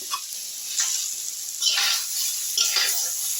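Fried potatoes are tipped into a pan of drumstick vegetable curry with spices, producing a steady close hiss and sizzle with recurring swells as the pieces are stirred in.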